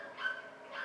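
Dogs bark and yip at a doggy daycare, a faint, brief burst of canine noise heard from some distance with no talking.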